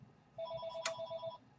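A household telephone rings in a steady electronic trill inside a quiet craft room during a paper crafting session, one ring of about a second, moderately close.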